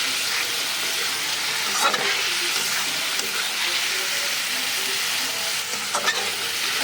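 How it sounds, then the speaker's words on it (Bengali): Eggs frying and being stirred into a spice masala in a pan, with a steady close sizzle and occasional scraping stir strokes, no talking. "এখন ডিম দিলাম, ডিম দিয়ে মশলাটা ভালোভাবে কষাবো"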